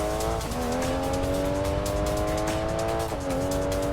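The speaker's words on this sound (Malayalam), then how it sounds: "അങ്ങനെ നമ്മൾ മാക്സിമം ത്രോട്ടിൽ തന്നെയാണ് പോണത്" A race car in a racing video game runs at full throttle, its engine whining loud and steady, dipping briefly twice at gear shifts before climbing again, with no voices.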